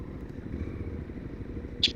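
Suzuki DL800RE or BMW R1200 GS Adventure motorcycle riding over gravel, a low steady engine rumble with rough crunching texture and a faint, sustained level, with no voices.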